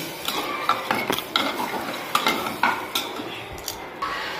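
A home kitchen pan after water is poured in gives faint stirring scrapes and light clinks of a utensil against metal, irregular taps over a soft simmering hiss.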